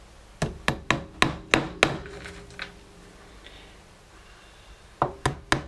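Upholstery tacks are driven into a wooden chair frame with a tack hammer: a quick run of about seven sharp, close taps, a pause with faint rubbing, then three more sharp strikes.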